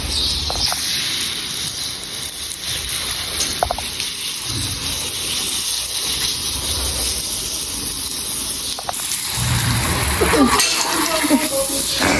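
Warm water runs steadily from a tap or shower head while a small dog is bathed, a constant hissing gush throughout that swells louder near the end, with people talking over it.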